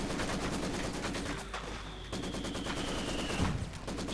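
Rapid 45mm anti-tank cannon fire in Company of Heroes 2, loud repeated bursts layered over dense ongoing battlefield gunfire and explosions, continuous throughout with a sharp louder shot near the end.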